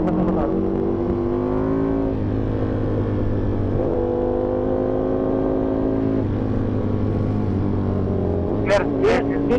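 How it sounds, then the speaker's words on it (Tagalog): A Ducati Panigale V4R races Kawasaki ZX6R and ZX10RR sportbikes on a sandy road. Loud, close engine drone rises and falls through the gears as the bikes accelerate, with a voice briefly heard under the engine noise. "Okay na yan, maglaban ng motor."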